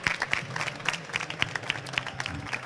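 An audience applauds a robotics competition jury in a hall, with moderate, evenly textured clapping throughout and a faint voice underneath.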